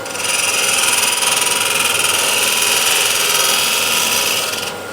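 A shear scraper cutting an 11-inch osage orange wood bowl on a spinning lathe, a steady high hissing scrape with bright tonal ringing and low lathe hum, close and continuous, stopping abruptly near the end.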